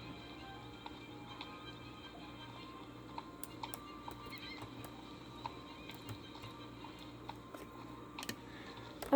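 Horse hooves canter in the Star Stable video game during a warm-up before show jumping, a faint, regular clip-clop under a low steady game background hum, with no talking.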